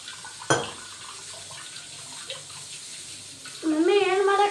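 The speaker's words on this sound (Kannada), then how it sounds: "ಒಂದು ಸ್ವಲ್ಪ ನೀರು ಹಾಕೊಂಡ್ಬಿಡ್ತೀನಿ ರೀ ಇದ್ರೊಳಗನ." Water is poured into a vessel of ground pani puri masala with a green chilli, a rising gurgling pour in the last second after a sharp knock and quieter kitchen handling.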